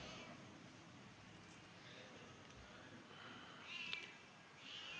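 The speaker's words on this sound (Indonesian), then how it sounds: "kucing" A cat gives a faint meow, with a brief, slightly louder cry near the end. It sits over a soft, steady background hiss in an otherwise quiet room.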